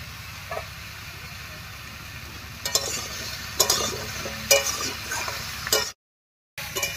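Mixed vegetables being stirred over a fried spice tempering in a pan, a steady low sizzle and scraping running throughout with a few sharper utensil knocks near the end before a brief cut to silence.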